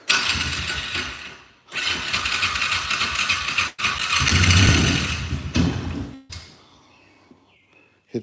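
A Trail Rider 570 is started with the choke pulled out, the starter cranking loudly in repeated bursts with short pauses between tries before it drops back to quiet, all close up.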